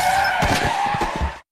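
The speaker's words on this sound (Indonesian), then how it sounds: "si pria itu justru ditabrak oleh satu mobil hingga tak sadarkan diri" A car in a film skids hard with tires squealing before striking a man, a loud screech with a few heavy thumps underneath that cuts off abruptly.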